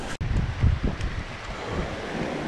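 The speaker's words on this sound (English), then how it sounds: "it is much colder up here, much windier" Wind buffets the microphone on a cold, exposed hilltop at Carvins Cove in Virginia, a close, rumbling gusty roar that rises and ebbs, stronger in the first second, with no talking.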